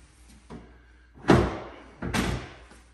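The transom safety door on a Saxdor 320 GTO boat is shut twice, giving two close, solid thuds about a second apart, each with a short rattling decay, after a few lighter knocks.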